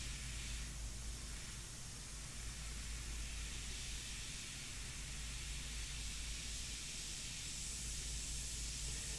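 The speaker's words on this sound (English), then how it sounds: "I just changed the distance of the airbrush to the surface" An airbrush sprays India ink onto paper in a steady, continuous airy hiss that holds an even level throughout, with no talking.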